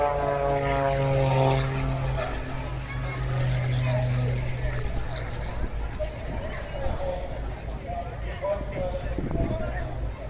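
An aerobatic propeller airplane roars overhead, its engine note droning and shifting in pitch as it climbs, heard loudly in open air beneath steady commentary and crowd chatter.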